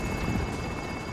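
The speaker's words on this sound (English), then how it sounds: "Drop helicopters." A helicopter in the video game Call of Duty Warzone drones with a steady rotor whir and engine hum, held at even volume for the whole stretch with no talk over it.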